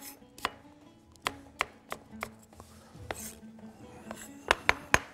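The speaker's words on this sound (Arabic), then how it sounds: "عندي البصلية بتاعتي بقطعها تقطيع كبيرة" A knife chops an onion into large pieces on a board in a home kitchen. About a dozen sharp, irregular knocks ring out, some spaced apart and a quick cluster near the end, with light clinks in between.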